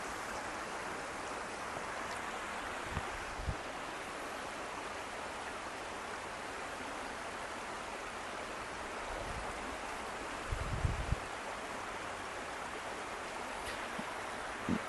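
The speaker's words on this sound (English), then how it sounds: "y'all are seeing the water and you're hearing the water." Waves washing steadily against a shoreline, a continuous broadband wash with no distinct breaks, carrying on alone at a moderate level with a few faint knocks.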